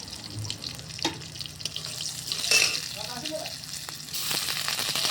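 Spices frying in oil in a kadai, with cumin powder going in first, a steady soft sizzle and crackle running through with a few clinks of utensils and a louder hissing burst near the end.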